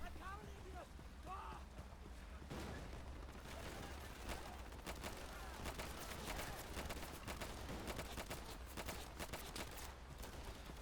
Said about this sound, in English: Thompson submachine gun, not the best for this type of work.